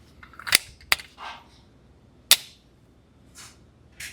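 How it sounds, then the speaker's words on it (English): A Shadow Systems CR920XP pistol fires at 10 yards: three sharp, loud cracks, two close together then one after a pause, with softer clacks and rustles between them outdoors. "I'm shooting this at 10 yards just to see."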